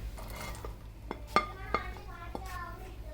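Onions and boiled green peas sautéed together in a pan for potato masala, with a few sharp metal clinks of the spoon against the pan over a faint low background.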